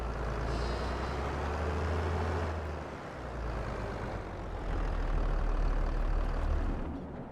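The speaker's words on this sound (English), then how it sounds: "I'm just going to park this tractor kind of right in front of the door there" A tractor engine in Farming Simulator 22 rumbles heavily and continuously up close, its low idle dipping briefly partway through before settling back to a steady drone, with no talking.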